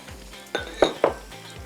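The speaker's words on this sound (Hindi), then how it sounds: "और प्याज को सौटे करिएगा।" Onions sautéing in hot olive pomace oil, a soft sizzle broken by a few sharp clinks and scrapes of a utensil against the pan, close by with no talk.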